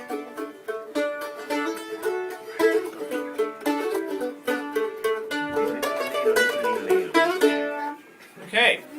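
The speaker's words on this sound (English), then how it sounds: "It's called a mandolin." A mandolin is played live on stage in a rapid run of bright, plucked and tremolo notes, fairly close and steady, ending with a brief voice.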